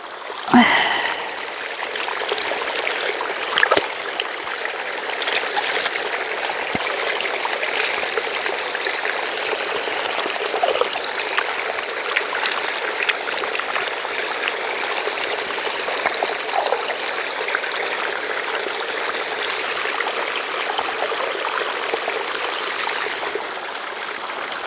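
Cold water streams steadily at a rural land plot, a continuous close-up rush and trickle that holds even and unbroken throughout with no voices.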